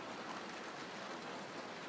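Steady rain in the video game Murder by Choice, a dense, even hiss of falling water with no breaks, heard alone without voices.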